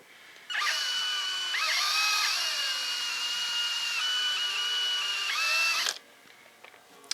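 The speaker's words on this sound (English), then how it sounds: "You'll find you might have to push a little bit to get this drill through the nylon here" A drill whines steadily for about five seconds as it bores through nylon on a 3D-printed V8 engine block model, starting and stopping abruptly with slight pitch dips under load.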